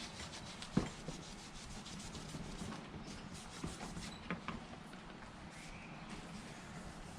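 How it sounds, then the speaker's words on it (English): A gray Scotch-Brite pad lightly scuffs a sticky 1970s–80s steering wheel, giving a soft, steady close rubbing hiss with a few small knocks and no talk. "Got a gray Scotch-Brite, so I'm gonna go through here and just lightly scuff this just a little bit."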